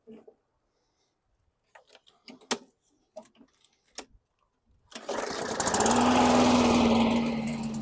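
A 2016 Murray lawn mower engine sputters to life after a few scattered clicks and taps, then settles into a steady, loud buzzing run close by.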